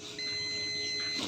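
A buzzer continuity tester sounds one steady, sustained electronic beep while probing headset wires, close and fairly loud, running nearly the whole moment before stopping.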